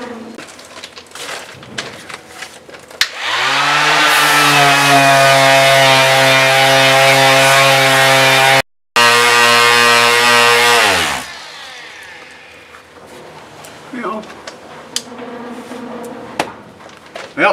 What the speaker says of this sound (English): I'll sand off the paint back here and reveal the fasteners.